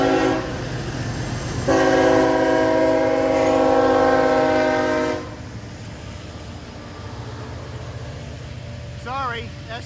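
Freight train M561, Selkirk to Cincinnati, led by SD70 locomotives, sounds loud sustained horn blasts over a deep rolling rumble at the Game Farm Rd crossing in New Scotland. Its steady rumble then continues as the train passes, with a brief squeal near the end.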